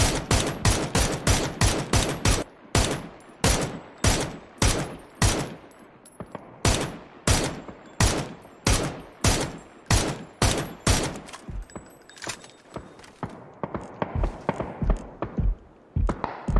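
Rapid gunfire in a shooter video game fires as loud, sharp single shots in quick succession, followed by slower evenly spaced shots and then a tighter burst near the end.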